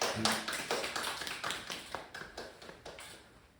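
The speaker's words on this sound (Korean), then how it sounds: "박수 한번 하시죠." A small church group at a leadership training session claps together, a brisk scatter of crisp individual claps that gradually tapers off, fairly quiet.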